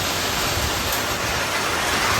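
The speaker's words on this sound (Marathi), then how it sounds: "खूप पाऊस आलेला आहे मित्रांनो" Heavy rain pours steadily during a May windstorm, a dense, constant hiss of water close by with no pauses, loud and unbroken throughout, with no voices.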